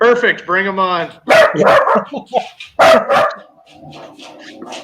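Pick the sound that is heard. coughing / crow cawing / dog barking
dog barking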